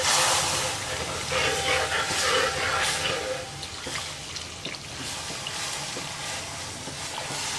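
Boiled milk and water poured onto heated dates in a pan, giving a steady close hiss of steam with dripping and splashing liquid that eases off over several seconds.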